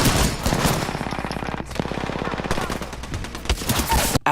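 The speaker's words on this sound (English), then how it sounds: "After exchanging gunfire" Rapid automatic gunfire exchange in the video game Apex Legends, loud bursts of fast repeated shots with a couple of brief pauses, ending in a final sharp crack, with a voice talking faintly beneath.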